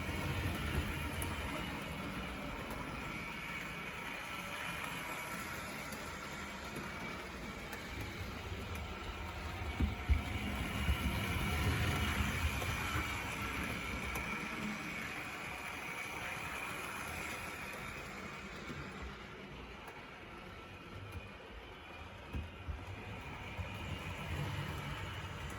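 A Wrenn model GWR 2-6-4 mixed traffic tank locomotive pulls a freight set along track, giving a steady, quiet rolling whir with a low rumble that holds constant throughout, swelling slightly midway.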